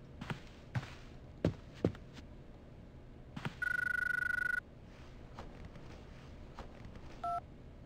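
A telephone in the video game Syberia 2 rings once with a steady electronic tone for about a second, followed by a short beep, amid quiet background ambience with a few clicks and taps.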